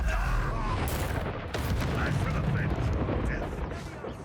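Confringo blasting spell cast in the video game Hogwarts Legacy, a burst of booming blasts and crackling impacts under a loud continuous rumble, with a voice speaking over it.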